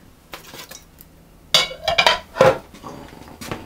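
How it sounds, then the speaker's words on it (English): A spoon scrapes and knocks around a bowl while stirring a sticky raisin oat flapjack mixture coated in caramel, a few irregular close clinks and scrapes in quick bursts. "I'm going to stir everything together until it's combined"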